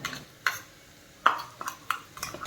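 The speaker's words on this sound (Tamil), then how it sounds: "பேஸ்ட்டை சேர்த்த பிறகு நல்லா கலந்து விட்டுக்கோங்க சவுச்சோவில் எல்லா பக்கமும் பேஸ்ட் படுற மாதிரி நல்லா கலந்து விட்டுக்கோங்க" A spoon stirs ground masala paste into a chayote (chow chow) curry in a metal pot. There are several sharp scraping clinks at irregular intervals over a faint sizzle, close up and with no talking.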